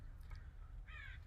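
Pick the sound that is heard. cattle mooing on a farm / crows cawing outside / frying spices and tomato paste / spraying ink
crows cawing outside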